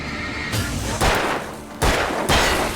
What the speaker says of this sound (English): The flash of light from a gunshot will also illuminate the yellow paint.